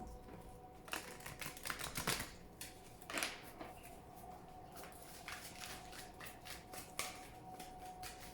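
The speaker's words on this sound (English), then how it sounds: "as I shuffle the cards" Oracle cards shuffled by hand in a quiet room, a series of soft, crisp riffling bursts and taps repeating irregularly, close and faint with no talking.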